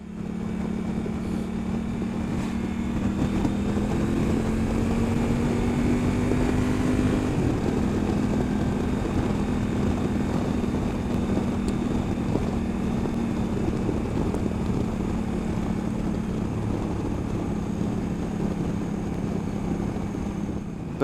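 A Honda Africa Twin motorcycle on a test ride gives a steady, close engine drone with wind noise. Its pitch shifts once partway through, as on a gear change, then holds even again.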